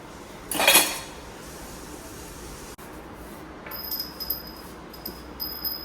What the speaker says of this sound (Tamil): ஜாமானமெல்லாம் வாரத்துக்கு ஒருக்கா எல்லாத்தையும் வந்து நல்லா க்ளீன் பண்ணிடுவேங்க